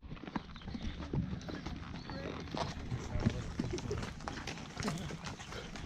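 Horses' hooves clip-clop steadily on a trail ride near Muskogee, Oklahoma, close by and fairly loud, with birds calling and people talking over the hoofbeats.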